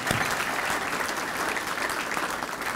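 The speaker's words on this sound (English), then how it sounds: "that deserves a second round of applause" Audience applause at a mayoral speaking event, a dense, steady wash of clapping from a large crowd filling the whole moment, loud and even throughout.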